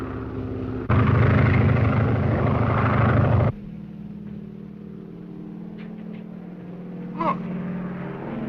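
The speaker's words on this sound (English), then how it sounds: "It's a bomber." A bomber aircraft's engine drones loudly overhead for a few seconds, a broad roaring hum that cuts off abruptly, leaving a faint background rumble and a brief distant voice.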